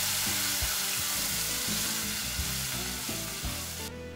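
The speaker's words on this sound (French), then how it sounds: "ajoutez le lait de coco" Coconut milk goes into a pan of browning satay powder for a noodle soup and sizzles loudly and steadily with crackling bursts, close up and with no voices.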